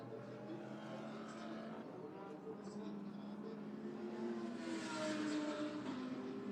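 Lamborghini GT race cars run together at Oschersleben, a steady engine drone rising a little as they pass, faint and partly masked, with commentary talking over it.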